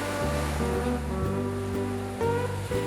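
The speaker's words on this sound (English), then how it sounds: "Imagine going to sleep to the sound of those waves." Ocean waves wash onto a beach at Molokai, Hawaii, a continuous loud surf with swells rising and falling and one fresh surge near the end, no voices.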